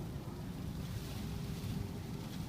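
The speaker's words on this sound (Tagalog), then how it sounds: "Yan po yung nakakagulat na sandstorm." A sudden, strong sandstorm sends wind roaring steadily and broadly with no letup, the low rumble of wind buffeting the microphone heavy throughout.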